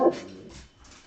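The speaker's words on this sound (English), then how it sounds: "Hey, who are you barking at?" A dog gives a single whimpering yelp at the start, followed by a quieter stretch of soft whines and snuffling, close by and with no talk over it.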